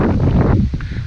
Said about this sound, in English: It's real windy. I hope you can hear me okay.